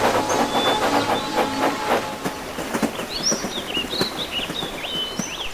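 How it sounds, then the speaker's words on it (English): A train runs steadily along the tracks, close and loud, with a continuous rumble and rhythmic clickety-clack as birds chirp in the background. "The train was running smoothly."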